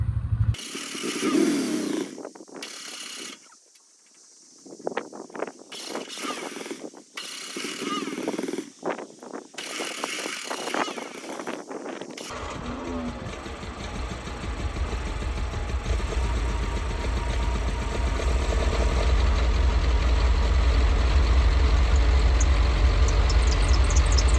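A half-track vehicle engine cranks over after a few scattered sounds, then catches and settles into a loud, steady idle with a deep rumble and a high belt squeal riding on top, running continuously to the end.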